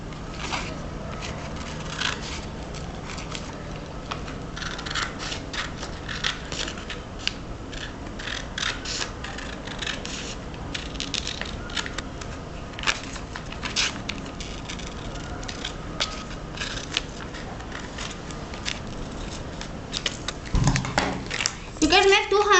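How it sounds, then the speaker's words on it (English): Scissors cut through square craft paper, giving repeated crisp snips and rustling scrapes at an uneven pace throughout, with a louder paper crackle near the end. "By using a scissor or etc."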